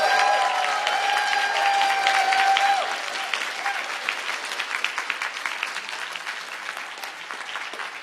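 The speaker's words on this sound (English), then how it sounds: "give the hugest, warmest round of applause for our conference coordinators" An audience at the Queers & Comics conference welcome address at the Graduate Center gives a long round of steady applause for the conference coordinators, dense at first and then thinning and tapering off.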